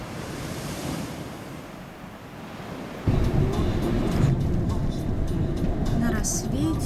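Sea waves wash steadily along the Batumi seafront at night, a constant broadband surf roar mixed with wind buffeting the microphone, which grows louder halfway through.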